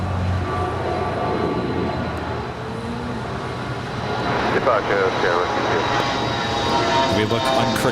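Aerounion Airbus A300 taxiing at LAX, turning onto a taxiway for a south side departure, a steady low jet engine drone with a rising whine, heard from a distance under ongoing talk.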